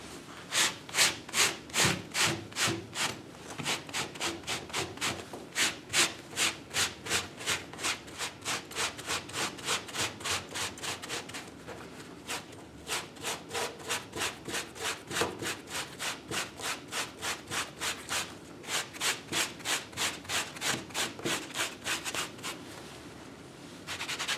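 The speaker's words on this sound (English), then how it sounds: "I'm going to go ahead and scuff the very bottom of the jacket" The bottom edge of a leather jacket is scuffed for weathering, giving a long series of close, rhythmic back-and-forth abrasive rubbing strokes with a brief pause midway.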